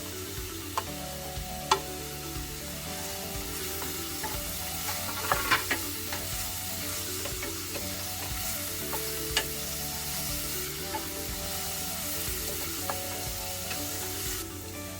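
Onions sauté in a pan with green chilies and curry leaves for a cauliflower palya, giving a continuous soft sizzle broken by occasional stirring scrapes and clicks, over quiet background music.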